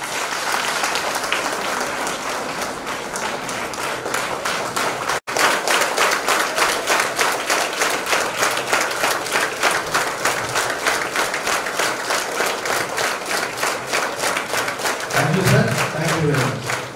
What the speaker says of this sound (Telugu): let us thank doctor Samuel Reddy గారు with huge rounds of applause